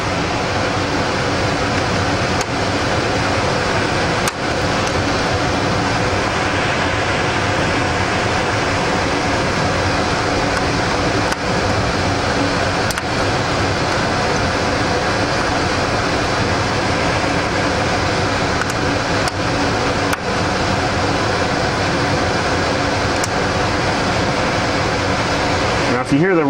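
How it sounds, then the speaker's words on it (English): Steady filtered air rushes through a Class 100 clean room during a hard drive head swap, a loud, continuous broadband hiss with faint clicks, and no talk over it. "If you hear the rushing sound of air in the background, it's actually the filter air that's coming through our clean room here."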